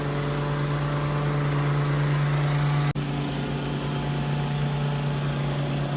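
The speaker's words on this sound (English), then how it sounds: "watch, I'm going to do it real quick and let her mow along" A Ferris riding lawn mower drones loudly and continuously while mowing a steep hill, its engine hum steady with one momentary dip partway through and no voices over it.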